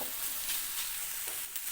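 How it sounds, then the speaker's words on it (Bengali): Ingredients dry-roast in a wok without oil, giving a soft, steady hiss and crackle with light stirring scrapes throughout. "তেল ছাড়া শুধু হালকা কড়াইতে হালকাভাবে একটু টেলে নিতেছি"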